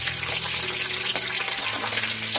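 Ginger-garlic paste sizzling in hot oil with curry leaves in a home kitchen pan, a steady dense frying hiss with small crackles running throughout.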